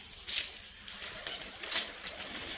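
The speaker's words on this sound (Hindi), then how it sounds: "इस छत पे जो कबूतरों की संभाल कर रहे हैं, उड़ा रहे हैं, हसनैन भाई और सुहेब भाई" Pigeons kept on a rooftop in Sialkot give soft coos and brief bursts of wing flapping, fairly close, over a light outdoor background.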